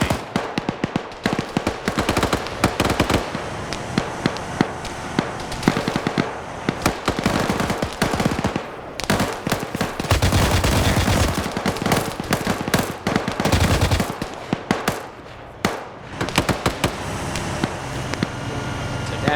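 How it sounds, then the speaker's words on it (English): A machine gunner firing in a multiplayer military training op in a video game: loud, dense bursts of automatic gunfire with sharp cracks and booms that run almost continuously, briefly easing before resuming. "now I just need that gunner to start shooting"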